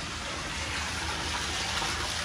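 Water pours steadily from a tap into a bathtub in a beach resort garden view room, a continuous broadband gush that stays loud and even throughout, with no voices.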